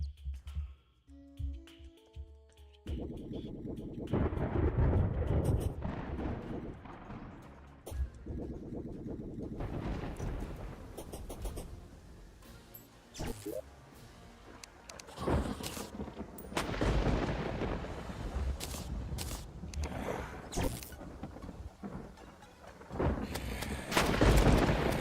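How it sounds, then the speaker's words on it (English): Loud thunderous booms and crackling blasts from a direct lightning strike in a survival video game, repeated bursts with rumbling between them over about 25 seconds. "Direct lightning strike. That's a bit nasty."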